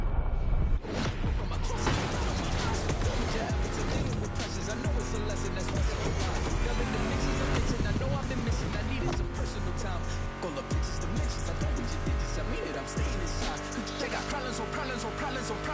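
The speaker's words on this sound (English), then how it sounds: "Meshes well with the sound of the engines, you feel me?" Ford Mustang GT muscle car in a racing game, V8 engine revving and roaring with tire squeal, loud and continuous, under a voice and rock guitar music.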